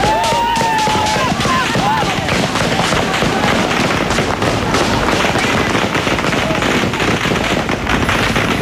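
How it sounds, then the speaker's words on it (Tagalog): Rapid bursts of gunfire crackle continuously, dense and sharp, at a strike at Hacienda Luisita, with a brief whistling tone near the start and faint shouting beneath. "tuloy ang pagkakaputok ng baril"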